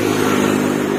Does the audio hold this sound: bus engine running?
yes